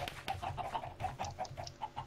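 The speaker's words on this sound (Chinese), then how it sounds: "这里好多小鸡哦" Clucking from Minecraft chickens comes in a steady run of short, evenly spaced notes, about eight in two seconds, close and clear against a soft background.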